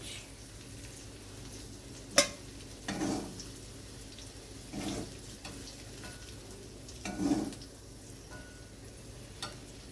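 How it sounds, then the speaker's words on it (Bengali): Soft, quiet sizzling of bitter gourd slices, coated in salt and turmeric, frying in hot oil, with a sharp clink and a few gentle stirring bursts. "এবারে এই তেলেই আমি দিয়ে দিচ্ছি নুন হলুদ মাখিয়ে রাখা উচ্ছে"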